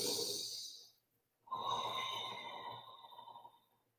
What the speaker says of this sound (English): Huge breath in and out.